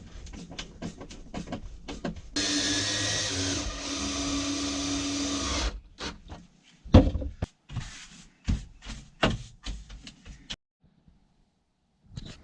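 A power driver screws down a metal railing piece on an Airstream bunk bed, a sustained loud whir for several seconds, followed by a series of short clunks and taps, then near silence.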